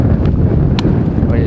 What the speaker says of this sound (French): j'ai peur qu'il y a beaucoup de vent